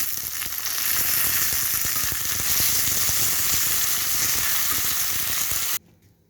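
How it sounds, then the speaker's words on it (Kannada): Onions fry in a pan with a dense, bright sizzle that holds steady and loud for several seconds before cutting off abruptly near the end. "ಈಗ ಈರುಳ್ಳಿ ಚೆನ್ನಾಗಿ ಫ್ರೈ ಆಗಿದೆ."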